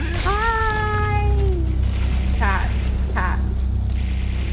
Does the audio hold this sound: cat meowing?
yes